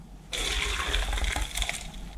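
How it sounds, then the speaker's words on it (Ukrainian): Boiled rice and its hot cooking water are poured into a sieve, giving a sudden rushing, splashing gush of water that runs continuously for about two seconds, close and fairly loud. "Відкидаю його на сито."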